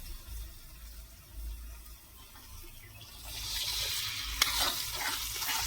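Tomato gravy poured into onion gravy cooking in a pan for pav bhaji, a wet sizzling and stirring hiss that builds from quiet low rumble to a louder frying crackle in the second half, with one sharp clink.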